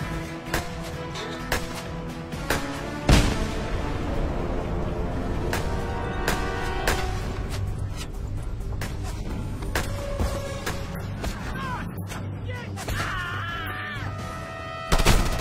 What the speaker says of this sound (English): I should be able to deal with this guy with some triggered C4